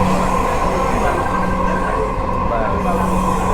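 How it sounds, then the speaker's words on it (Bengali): A passing metro train rumbles steadily with a sustained rolling roar, heard from inside another metro rail carriage, continuous and fairly loud throughout. "দেখেন পাশ দিয়ে আরেকটা ট্রেন"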